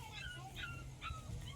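A puppy whimpers and yips in short, thin, high cries, close by and fairly faint, with a little background murmur.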